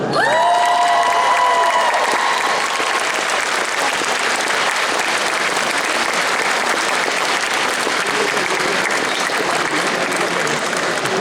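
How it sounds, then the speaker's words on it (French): A convention audience bursts into loud applause and cheering, with whoops and shouts at the start, then steady, sustained clapping throughout. "Faites du bruit pour Copper Spawn."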